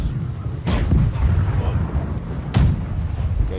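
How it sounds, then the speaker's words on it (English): Ship cannons fire in the naval combat game Blackwake: two heavy booming shots about two seconds apart, loud and close, over constant low rumble and battle noise. "Right side cannons, right side."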